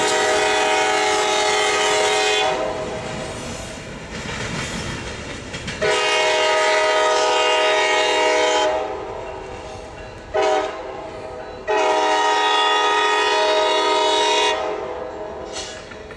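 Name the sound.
train passing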